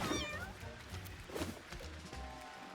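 Cats in the video game Mewgenics meow several times, high wavering cries coming close together over a busy game background with a low rumble.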